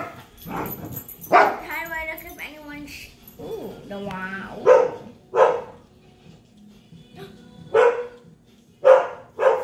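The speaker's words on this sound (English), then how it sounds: "Sorry, my dog's just playing." A playful dog barks and yips in short bursts, some close and loud, mixed with whimpering sounds, while people talk intermittently between the barks.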